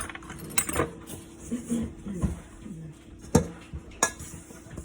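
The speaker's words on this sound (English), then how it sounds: "the fork, when you mix it around, it really helps push stuff down" A fork mixes meat pie dough in a bowl, scraping and clinking against the sides in scattered, uneven strokes with a few sharper metallic taps, close by and moderately loud.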